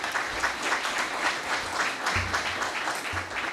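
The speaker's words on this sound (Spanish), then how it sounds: "Un aplauso para Antonio." Audience applause welcoming a new business manager for the northern region at a company gathering, a steady wash of many hands clapping at moderate level, with a low murmur underneath.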